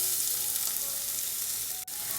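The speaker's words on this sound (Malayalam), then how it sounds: "നമ്മുടെ സവാളയൊക്കെ നന്നായിട്ടൊന്ന് വഴണ്ട് വരട്ടെ" Chopped onion sautés in a pan over a high flame, a steady close sizzle that holds throughout with one brief dropout near the end.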